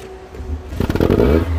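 A classic Alfa Romeo Spider engine rumbles low, then revs up with a throaty exhaust burst and settles into a steady, loud idle.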